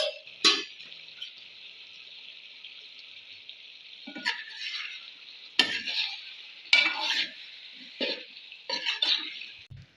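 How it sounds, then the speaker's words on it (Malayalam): Chicken curry being stirred in a pan, with a steady soft sizzle underneath and several sharp scraping strokes of the utensil against the pan coming in irregular bursts, close up and with no voices. "അതിന് മുകളിൽ ഒന്ന് ഇളക്കി കൊടുക്കും"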